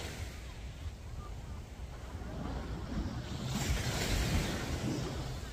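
Waves wash in and break on Haeundae's sandy beach, building to a louder surge near the end, with wind rumbling across the microphone.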